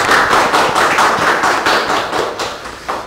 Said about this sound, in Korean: 한번 큰 박수를 해주시면 고맙습니다